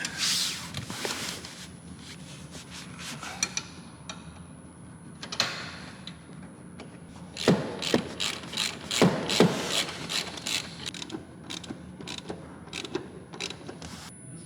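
Seat bolts on a Renault Zoe being run in by hand, with bursts of rapid ratchet clicking and metallic clacks from close by, separated by short pauses.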